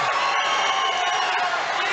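An amateur MMA crowd at a 135-pound bout roars and cheers steadily after a slam and guillotine attempt, a dense, loud wash of shouting voices and whoops that holds throughout without pause.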